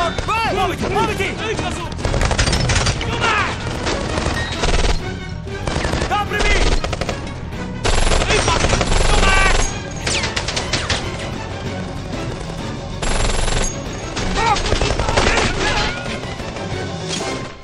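Machine gun fire in an action scene from the Italian dub of the spy comedy Le spie, loud repeated bursts with crashes and impacts spread across the scene, broken by short pauses and mixed with shouting voices.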